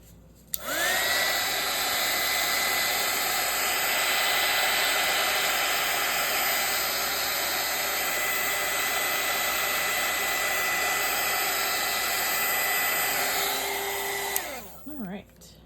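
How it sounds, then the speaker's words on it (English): A handheld dryer blows a steady, loud whirring rush for about fourteen seconds while drying a napkin collage journal page, then switches off with a falling whine. "So I'm gonna dry it one more time."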